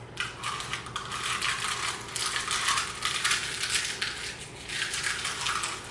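Eggs being cracked into a bowl and squished and mixed for banana bread, a close, wet crackling and squelching that comes in repeated bursts, loud and crisp with no talking.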